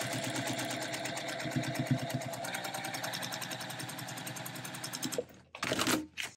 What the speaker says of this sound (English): take it to my sewing machine,